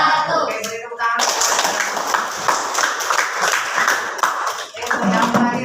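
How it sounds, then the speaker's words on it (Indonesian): Classroom clapping after a group presentation during a teacher-training practice session, a dense burst of many hands lasting several seconds, with voices chattering at the start and end. "Oke, beri tepuk tangan."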